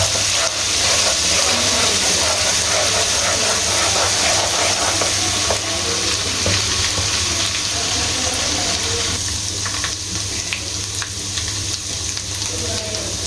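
Two spoons of ginger garlic paste fry in a pan for a creamy white chicken dish, giving a loud, steady sizzle with some stirring scrapes and no talking.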